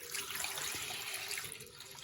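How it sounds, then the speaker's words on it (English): Warm water runs from a tap into a sink, a steady soft hiss of flowing water that stays even throughout, faint and close, with no talking. "So now I'm just going to run the warm water"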